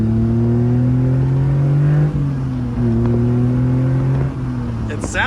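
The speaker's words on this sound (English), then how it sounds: "It sounds like a V6, but it's alive" Engine of a 1979 Dodge D100 pickup truck revving close by, a steady droning hum that dips and rises in pitch a few times, loud and continuous, with a faint high rattle near the end.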